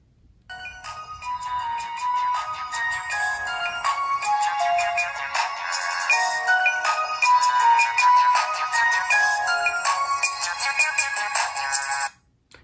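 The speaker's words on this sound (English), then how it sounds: "So Sony Ericsson ringtone." Sony Ericsson Spiro W100i mobile phone from 2010 playing its built-in ringtone, a bright, steady electronic melody of repeating synth notes lasting about twelve seconds, alone and close.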